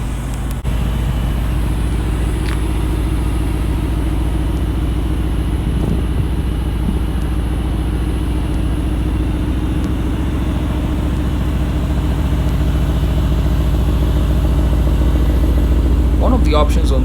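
Exhaust of a 2020 Mercedes-AMG GT R runs as a steady, loud, deep engine drone with a throbbing low rumble that holds even throughout, with a few faint clicks over it.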